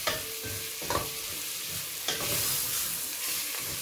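Veal curry with vegetables frying in a pan, stirred with repeated scraping strokes over a steady sizzle, close and moderately loud with no talking.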